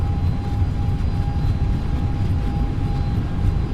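Airbus A321neo engines roar at takeoff thrust in a flight simulator, a loud, continuous broadband rumble with a faint steady tone held over it throughout.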